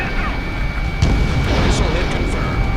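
A missile hit explosion in the combat flight game Ace Combat 7, a loud booming burst about a second in that rolls into sustained rumbling blast noise over a steady engine drone.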